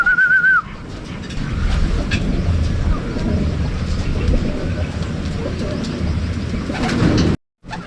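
Racing pigeons come in to the landing board at a club training session in Paete, Laguna, on a windy day. Wing flutters and coos sound close under steady wind noise, with a brief whistle at the start.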